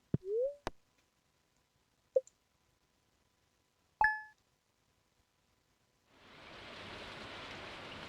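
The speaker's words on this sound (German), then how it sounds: "Es regnet." A few isolated clicks and blips, then a steady hiss of rain fades in and continues evenly to the end, in the video game Stardew Valley.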